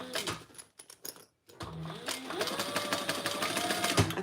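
A sewing machine sews a crossbody bag, with a few light clicks and a short pause before the motor settles into one long, steady close run of stitching.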